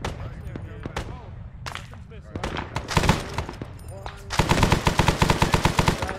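Arma 3 gunfire sounds as scattered single shots that build into sustained rapid automatic bursts, loud and close, with voices speaking over some of the firing.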